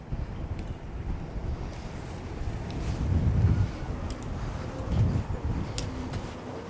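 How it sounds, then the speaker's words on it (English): Strong wind roars and buffets across the open bow deck of a 42-foot Carver yacht, a steady, close, broadband rush that swells in heavier gusts partway through, with no voices. "Ooh, it is windy."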